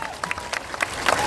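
An audience at a Jan Suraaj political party launch rally in Bihar claps in scattered bursts, a moderate patter of hands with some crowd noise and no clear voice on top.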